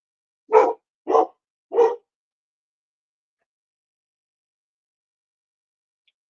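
A dog barks three times in quick succession, loud and close, the barks sharp and separated by short gaps, followed by silence; recorded near a road.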